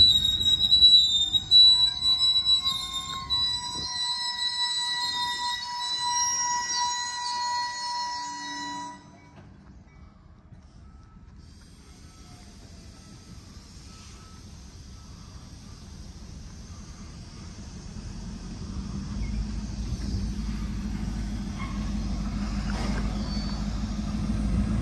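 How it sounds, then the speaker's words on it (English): An EMD GP38-2 diesel locomotive working a Norfolk Southern rail yard in Elkhart opens with high, sustained metallic squealing tones, drops to near quiet, then a low diesel rumble builds steadily and holds to the end. "The locomotive is a Electromotive Division, General Motors Corporation, McCook, Illinois plant where I work"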